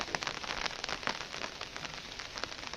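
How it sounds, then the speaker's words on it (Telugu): Heavy, nonstop village rain pours down in a dense, steady hiss with scattered patters of drops striking surfaces close by. No voices can be heard. "రెండు రోజుల నుంచి నాన్ స్టాప్గా వర్షం కురుస్తూనే ఉంది"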